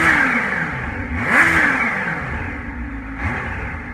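Kawasaki ZH2 supercharged motorcycle, close by, blips its engine twice in quick revs, each swelling then falling away as it decelerates, with a whining tone riding over a rough mechanical hum and no talking.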